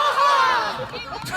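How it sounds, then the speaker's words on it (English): Calgary Lightning players shout a short, loud team cheer together at a tournament match against the UVic Valkyries, a brief burst of voices with crowd noise under it. "What a wonderful short cheer."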